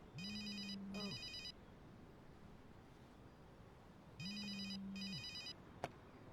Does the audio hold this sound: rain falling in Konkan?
no